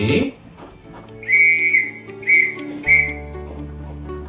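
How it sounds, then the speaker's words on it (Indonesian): Morse letter D whistled: one long piercing note followed by two short pips, distinct above a quiet musical backing. "kemudian bunyi huruf D"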